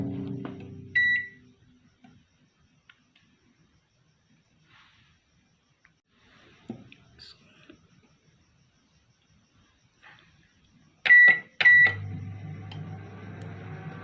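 Electronic beeps from an oven control panel while preheating for baking buns: a short double beep early on, then a quick cluster of beeps near the end, with quiet kitchen handling in between.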